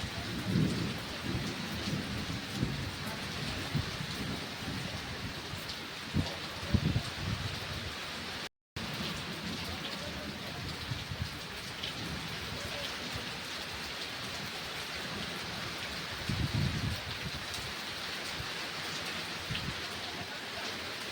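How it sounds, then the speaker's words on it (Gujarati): Steady rain falls on a village during a thunderstorm, a dense continuous hiss broken by several low thunder rumbles and cracks, close and fairly loud, with one brief dropout midway and no talking. "પવન છે, વરસાદ છે અને વીજળીના કડાકા ભડાકા છે"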